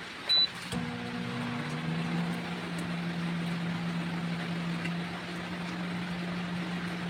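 A microwave oven starts up after a click, and its magnetron sets off a steady low electrical hum with a faint buzzing whine. The sound holds at a constant level close by and stays quiet.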